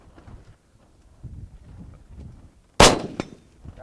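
A single sharp, loud report from a Saiga 7.62x39 rifle firing at steel targets cracks out after a stretch of quiet wind and rustling, followed by a fainter echoing clang.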